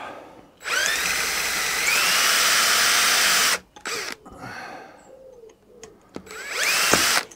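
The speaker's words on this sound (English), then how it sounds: "I'm going to drill that out." A close power drill drilling out a clip on a strimmer whines steadily for about three seconds, stops, then gives a few shorter bursts with clicks and scraping between them.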